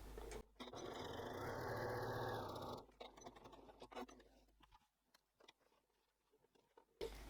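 A sewing machine runs a steady top stitch along one edge of a cork wallet pocket, quiet and continuous for a few seconds before stopping, followed by faint clicks and handling noises.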